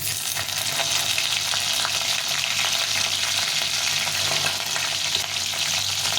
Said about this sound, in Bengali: তেলটা গরম হয়ে গেছে আমি এখানে কিছুটা কালো জিরে দিয়ে দেবো আর কাঁচা লঙ্কা